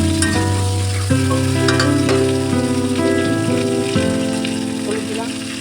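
Aubergine frying in a pan for a hilsa and potato curry, a continuous bright sizzle and crackle heard beneath a steady melodic background tune.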